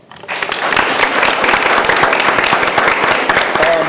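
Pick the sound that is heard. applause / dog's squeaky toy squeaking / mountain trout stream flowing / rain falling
applause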